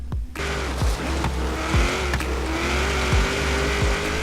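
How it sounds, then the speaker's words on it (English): A Toyota Celica and a Mazda MX-5 drive in the Forza Horizon 3 racing game, with a steady engine drone, repeated short tire or impact thumps and a rising whine, all loud and continuous with no talk. "So then we're starting off with the Toyota Celica and the Mazda MX-5."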